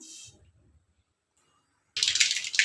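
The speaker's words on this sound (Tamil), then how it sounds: "கடுகு பொறிஞ்சிச்சு" Mustard seeds splutter in hot oil while banana stem pachadi is being made: quiet at first, then a sudden loud burst of crackling, popping sizzle close by in the final second.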